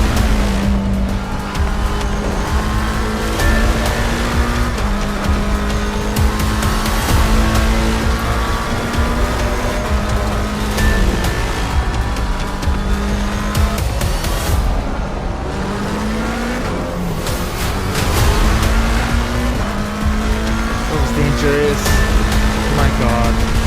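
Race cars lapping Laguna Seca in the Assetto Corsa Competizione sim, engines droning loud and steady with repeated gear-shift steps and occasional tire squeal, continuous throughout.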